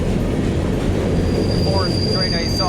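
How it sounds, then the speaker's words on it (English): A BNSF freight train, a westbound manifest led by three locomotives in La Crosse, Wisconsin, rumbles heavily while braking, with thin metallic wheel squeals rising above the steady roar; close, loud and continuous throughout. "I think it's parking to wait for that 4-engine train to go by."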